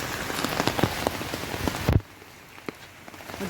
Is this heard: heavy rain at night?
yes